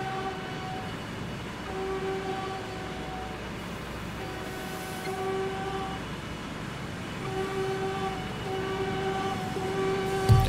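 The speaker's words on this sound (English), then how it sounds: "We're gonna ride this very slow train." Slow train running in a Roblox train game, a steady rumbling roll with sustained horn-like tones sounding at intervals, continuous and moderately loud throughout.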